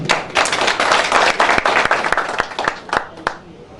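Close, loud applause from a party crowd at an Eid gathering, dense clapping with sharp individual claps punching through, thinning out and fading over the last second.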